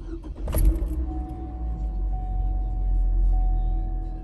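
A Hummer H3 engine cranks briefly and catches, settling into a steady low idle close by, after a short jangle of keys at the start.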